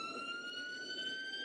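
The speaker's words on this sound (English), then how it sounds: "Ambulance behind us." An ambulance siren sounds behind a car after a police chase scene, a steady high wailing tone held throughout at moderate level over a broad road-noise rumble.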